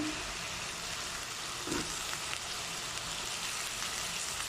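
Garlic frying in a small amount of oil in a pan, a steady soft sizzle and crackle throughout with no voices.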